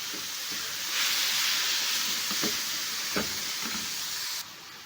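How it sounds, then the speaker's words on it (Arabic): Chicken sizzles with onions in hot ghee and oil in a pan, a steady close hiss broken by a few stirring knocks. "هحط دلوقتي الفراخ، هبتدي كده اشوحها مع البصل لغايه لما تاخد لون ذهبي"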